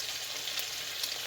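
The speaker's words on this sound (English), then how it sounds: "I got some bacon frying up here." Bacon sizzles in a frying pan with a close, steady crackling hiss that holds evenly through a brief moment, with no talking.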